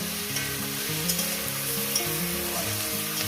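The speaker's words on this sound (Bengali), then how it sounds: "কাঁচা লঙ্কা শুকনো লঙ্কা দিয়ে এটাকে আমি ভালো করে আরো এক থেকে দেড় মিনিট দু মিনিট ভেজে নেব" Chicken curry frying with green and dried chillies in a pan, a steady loud sizzle with stirring scrapes over background music tones.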